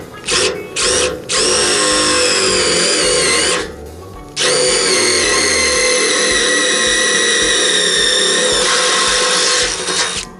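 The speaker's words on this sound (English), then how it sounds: "And then we know our spots where we're gonna drill." A power drill bores holes in a snow plow blade, whining loudly and steadily in two long runs separated by a brief pause, with short on-off bursts at the start.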